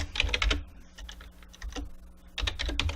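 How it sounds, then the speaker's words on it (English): Typing on a computer keyboard, clusters of fast close key clicks in short bursts with a pause in the middle, fairly quiet and alone. "we're going to type int"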